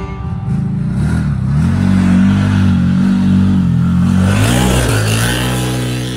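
A 2022 CFMOTO UFORCE side-by-side with a GSE exhaust revs up close and loud, its engine note climbing and holding steady, then rising again toward the end before cutting off.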